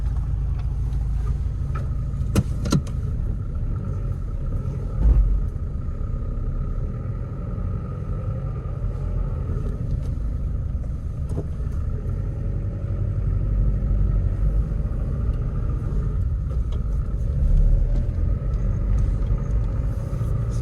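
A 1995 Toyota Hilux Surf engine idling as it warms up, a steady low rumble that holds constant throughout with a few faint clicks and knocks, close and alone.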